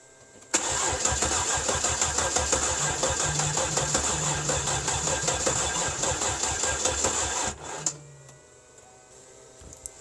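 A Cadillac Northstar V8 cranks and fires, then roars steadily at a loud, rough idle for about seven seconds before shutting off, leaving faint ambient noise.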